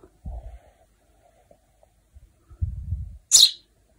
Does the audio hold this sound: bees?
no